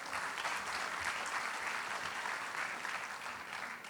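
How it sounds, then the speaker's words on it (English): An audience applauds steadily at a PyCon ID 2019 conference keynote, a dense, even wash of many hands clapping throughout with no pause. "So, give a second applause for Miss Ingriani Lim."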